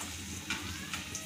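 Green chilies sautéed in hot oil for dal tadka, a soft continuous sizzle with light stirring scrapes, faint and close.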